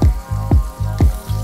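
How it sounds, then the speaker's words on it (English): Fish pieces frying over medium-high heat in a pan for Bangladeshi mustard fish curry, a loud, close, steady sizzle with rhythmic low pulses recurring about every half second, no talking. "So fry the fish, 1 minute per side."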